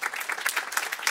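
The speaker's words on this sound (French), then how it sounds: "On va vous applaudir également" A crowd at an agricultural marketing award ceremony gives a short round of applause, a quick, even spatter of many hands clapping with no speech.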